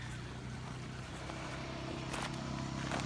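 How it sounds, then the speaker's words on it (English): A moped or motorbike passes at a distance during a fishing outing, a low steady engine drone under outdoor ambience without voices. "There's a moped or a bike or something."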